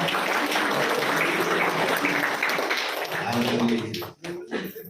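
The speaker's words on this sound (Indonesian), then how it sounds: "Kita sambut hambanya tepuk tangan yang mulia." Steady applause from a church congregation fills the space, dense and continuous, then thins out near the end with a few scattered claps.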